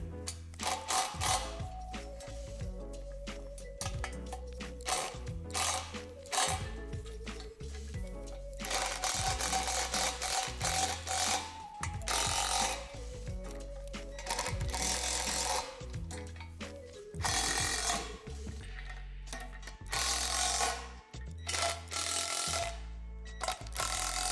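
Hardware bolts are tightened while assembling a Lifetime Adventure Tower playset, producing repeated close, rattling mechanical bursts in a steady rhythm with short pauses between them.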